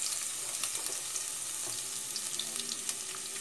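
Large garlic cloves frying in oil in a pan, a continuous soft sizzle and crackle with scattered small pops and occasional stirring, fairly quiet and close, with no talk.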